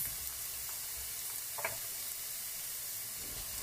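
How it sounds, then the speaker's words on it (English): Sautéed onions and mushrooms sizzle quietly in a pan, a soft continuous frying hiss with a brief clink of a utensil partway through. "The onions here are sauteed, our mushrooms are sauteed and waiting for greatness."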